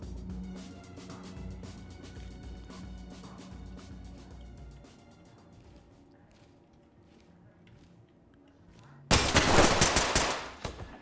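Gunfire in the tactical police shooter Ready or Not: scattered, fairly quiet shots and clatter, then a sudden loud burst of rapid fire near the end.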